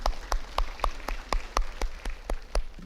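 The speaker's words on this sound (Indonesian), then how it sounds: "Tepuk tangan buat semuanya." A church congregation at a GPdI Elohim Sidoarjo service claps in steady unison, about a dozen crisp, evenly spaced claps on a regular beat, with no talking.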